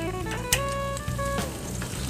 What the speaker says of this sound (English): Starting to get a little sizzle from this chicken grease.